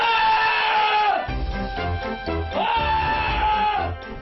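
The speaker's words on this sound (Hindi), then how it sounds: "ये सबसे ऊंची चीख है जी" Two long, loud, high-pitched screams from a person in a screaming contest, each held for about a second and dropping off sharply, with a murmur of voices between them.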